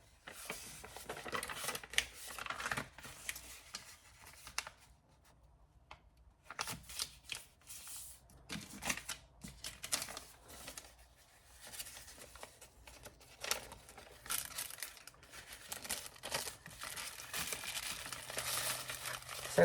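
Envelope paper torn by hand, a series of crisp ripping and crinkling bursts with short pauses between, close and fairly quiet.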